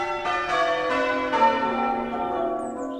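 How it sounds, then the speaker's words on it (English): Village church bells rung by practising bell ringers, several bells peal in a steady overlapping sequence with long ringing tones, loud and close, alone without voices. "Bell ringers at the village church are practising for the celebratory service on Sunday."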